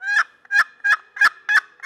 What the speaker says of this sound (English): This specific call, it has got a good tone. I'll kind of let you hear.